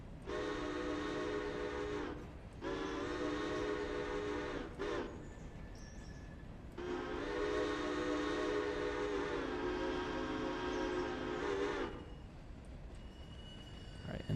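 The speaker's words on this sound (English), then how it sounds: "All right, and nice and slowly, if we can bring this train to a halt." Locomotive in the Railroader video game, a loud sustained whistle or horn sounding in long blasts with brief gaps, over a steady rumble of the train running and slowing to a halt.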